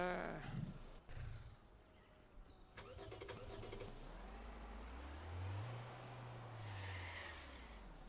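A car engine in a video game starts and revs up, rising into a sustained roar and swelling again near the end, faint overall and preceded by a few clicks and bumps.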